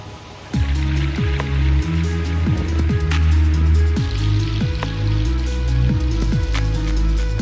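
Water from a waterfall on a mini golf course splashes steadily and loudly, a continuous rushing patter with irregular drips and plops throughout.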